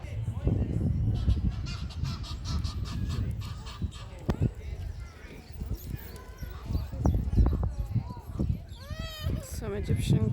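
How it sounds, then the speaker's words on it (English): Egyptian geese calling from a tree in a London park, a series of harsh honks rising over a constant crowd hubbub and nearby chatter, louder toward the end. "Some Egyptian geese in the tree."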